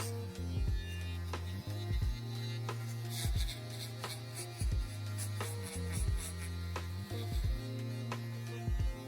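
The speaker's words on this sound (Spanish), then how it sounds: "darle también giros circulares para que la afeitadora afeite mejor" An electric shaver working through hair during a buzz cut with a scissor fade: a steady close buzzing hum, broken by short repeated swells and dips as the clipper moves in circular passes over the head.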